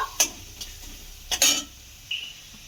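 Dry turmeric and spices stirred into pointed gourd curry in a pan: a few sharp scraping strokes of a spatula against the metal, with short gaps between them and a faint sizzle underneath.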